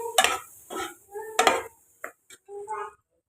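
Metal spoon scraping and clanking against a pan while eggs are stirred into chicken masala for egg biryani, a few sharp uneven knocks and scrapes, close, with a faint sizzle and short pauses.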